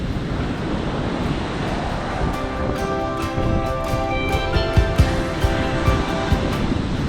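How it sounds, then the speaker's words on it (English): Pacific Ocean waves crash and wash ashore at Davenport Beach, California, below cliffs and bluffs, a loud continuous roar of surf with wind buffeting the microphone and a faint tonal hum beneath it. "the crashing waves of the Pacific Ocean"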